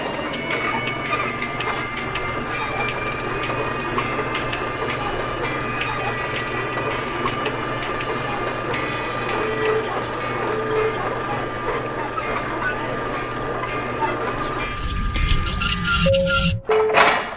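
An elevator moving between floors in the space game Elite Dangerous gives a steady mechanical hum with a ratcheting rattle for about fifteen seconds, then shifts and ends in a short clunk.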